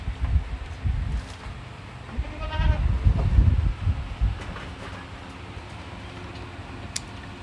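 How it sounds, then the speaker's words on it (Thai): A three-year-old Toggenburg breeding buck goat on a goat farm in the evening gives a short wavering bleat amid outdoor wind rumble and rustling, with faint scattered sounds afterward. "พ่อพันธุ์ท็อกเก็ตเบิร์กนะครับตัวนี้"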